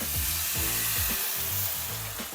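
Vegetable stock hits a hot pan and sizzles loudly and continuously up close, with a steady hiss and occasional scraping or stirring sounds while deglazing a Japanese curry base.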